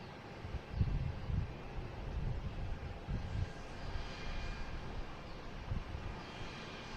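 A fixed-wing airliner on approach to land at Boston Logan airport, its engines a steady distant rumble and roar with wind noise, fairly faint and without speech.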